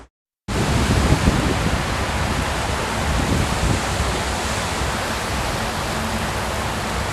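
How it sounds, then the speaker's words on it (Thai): Heavy storm rain pours down in Bangkok, a loud, steady broadband roar gusting with strong wind, starting abruptly after a brief silence and continuing unbroken. "พายุแรงมาก ฝนตกกทมนะครับ ทุกคน ลมแรงจนน่ากลัวมากครับ"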